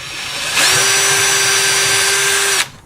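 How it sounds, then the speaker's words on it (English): A power drill whines loudly for about two seconds, starting and stopping abruptly, its pitch steady as it bores a pilot hole into wood at close range. "always you want to drill a hole"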